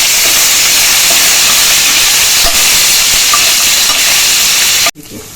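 Curry leaves, ginger and two red chilies fry in a pan for urad dal kadhi, making a loud, continuous hissing sizzle that cuts off abruptly near the end.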